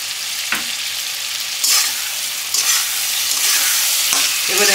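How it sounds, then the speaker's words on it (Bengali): Chilli fish stir-fries with onions, capsicum and soy sauce in a loud, close sizzle, with bursts of tossing and scraping every second or so, and no talking. "এবারে আমি পেঁয়াজ আর ক্যাপসিকামের সঙ্গে এটা ভালো করে ভেজে নেবো"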